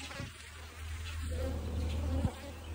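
Angry bees buzz loudly and close during a beehive inspection, a continuous droning hum with wavering pitch as insects circle nearby.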